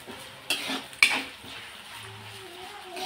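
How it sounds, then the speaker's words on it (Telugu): Sliced onions fry in a pan while being stirred, a low sizzle with a couple of sharp utensil scrapes and clinks against the pan. "ఇవైతే ఆనియన్, ఇవి మంచిగా వేపుకోవాలి."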